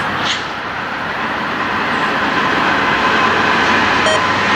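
KCS freight train passing with an ML-series lead locomotive, a steady broadband rumble and rolling roar holding close and loud throughout, with a brief high beep-like tone near the end.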